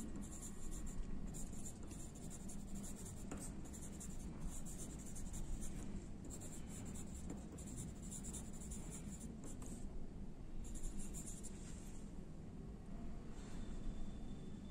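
Pen writing out an answer on paper during a Class 6 maths exercise, a steady soft scratching that continues through the whole stretch over a low background hum.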